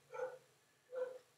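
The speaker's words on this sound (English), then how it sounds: "I apologize if you hear my dog barking while I'm doing this." A dog barks twice in a quiet room, two short, fairly faint woofs about a second apart with a low hum underneath.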